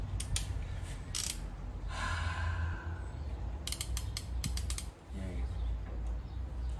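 A socket wrench ratchets in quick bursts of dry clicking while Wilwood disc brake parts for a Tri-Five Chevy are taken apart in a garage, with a steady low hum underneath and a brief voice.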